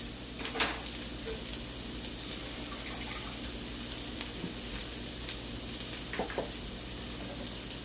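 Onion frying in a pan, a steady soft sizzle filling the background with a few faint clicks and scrapes of stirring, no voices.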